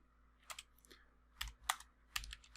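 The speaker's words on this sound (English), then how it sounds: "So here we're going to type in post commands this time." Computer keyboard typing in short bursts of clicky keystrokes, three small clusters spaced apart, close and fairly quiet with no talking.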